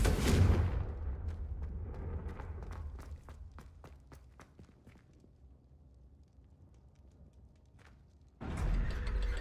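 A Confringo blasting spell explodes in the Hogwarts Legacy video game with a heavy booming burst at the start, then rapid crackling pops and debris as it fades, before another deep rumble swells near the end.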